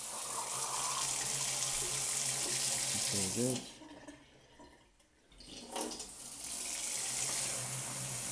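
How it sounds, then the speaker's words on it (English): A tap with a freshly replaced cartridge runs loudly and steadily, cuts off briefly to near quiet with a voice speaking, then gushes again with a sputtering, air-bubbled surge before settling into a strong flow. "So back up to the tap, just going to test it, might get a bit of air bubbles coming out."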